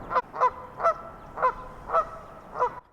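A Canada goose in a wetland calls repeatedly for its wandering mate, giving six clear, nasal honks at a fairly even pace, moderately close and standing alone against quiet surroundings.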